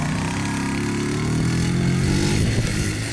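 Barton 50cc fuel-injected motorcycle pulling away, its small engine droning steadily with rising pitch as it rides off, loud and close throughout.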